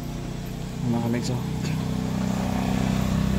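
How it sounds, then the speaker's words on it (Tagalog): A motorcycle engine rumbles past nearby, its low drone swelling and holding under someone talking. "may dumaan na motor"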